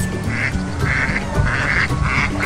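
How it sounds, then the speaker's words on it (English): Farm ducks quacking close by, a loud series of repeated raspy quacks in short bursts, about four clusters in quick succession, with other farm birds faintly in the background. "Ducks,"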